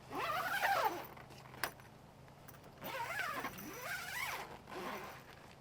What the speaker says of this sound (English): You just simply clip it, unclip it, drop it down, zip it up.